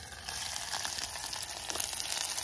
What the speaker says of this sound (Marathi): कांदा परतून घेऊया.